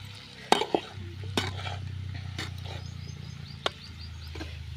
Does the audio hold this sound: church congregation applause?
no